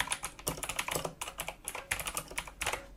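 Fast, steady typing on a Tronsmart TK09R RGB keyboard, whose keys have a slightly metallic, hollow tone and whose spacebar is struck hard: dense bursts of close clicks in an uneven rhythm for about three seconds, with no voices.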